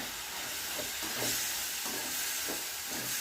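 Chettinad kara chutney ingredients sautéing in hot oil in a pan, a steady loud sizzle and hiss with periodic stirring scrapes, no voices.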